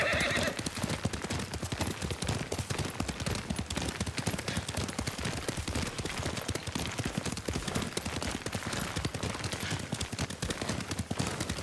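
Horse hooves in the Ghost of Tsushima video game beat in a rapid, continuous galloping rhythm that stays close and steady the whole time, with a horse's whinny near the start.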